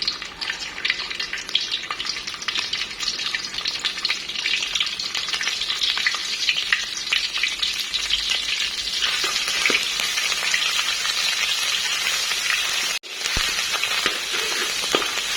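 Food stir-fried in a pan until fragrant gives a continuous close sizzle and crackle, with scraping stirs running through it and a brief dip near the end.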